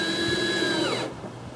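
A small drill bit whines steadily while pre-drilling holes in a kayak hull, a close, even tone that cuts off abruptly near the end.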